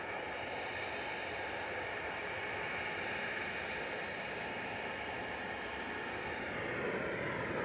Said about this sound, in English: It's EasyJet off to Belfast, A320-200, Gesri, flight 701.